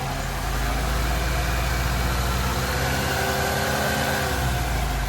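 A car engine runs steadily close by with a low, even drone, rising slightly in pitch and load partway through as the throttle is pressed lightly during a sensor test.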